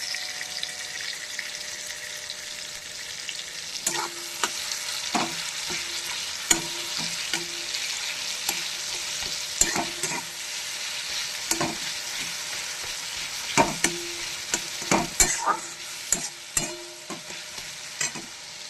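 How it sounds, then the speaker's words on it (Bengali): Tomatoes frying in oil in a pan, a continuous moderate sizzle broken by frequent sharp taps and scrapes of a spoon against the pan, close and fairly even throughout, with no talking. "এখানে টমেটো দিয়ে দিয়েছি তেলের উপর।"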